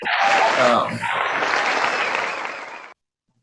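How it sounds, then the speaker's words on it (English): A burst of clapping and cheering from a crowd, loud and dense with voices calling out at first, then steady applause that cuts off abruptly. "You even got a little applause, Brandon."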